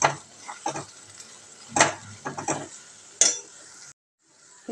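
A thick Perandai thovaiyal paste is stirred with ground powder in a pan, giving scraping, clinking strokes in irregular bursts, loud and close, with a brief pause near the end.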